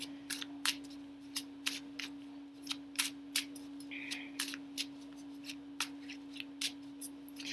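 Tarot cards pulled one by one from a deck give a run of crisp, close card snaps and flicks at an uneven pace over a steady low electrical hum.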